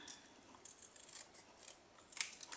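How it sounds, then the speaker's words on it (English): Paper trimmed with craft snips during a Stampin' Up! stamping project: a quiet run of short, crisp snipping cuts at an irregular pace, close by, with no talking. "So don't stress about cutting with the snips. Just turn your paper and trim it out."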